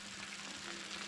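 Curry base for a British Indian restaurant-style chicken pathia sizzling in a hot pan, a faint, steady hiss and crackle with no voices.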